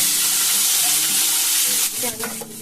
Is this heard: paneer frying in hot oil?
yes